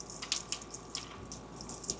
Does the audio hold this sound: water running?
yes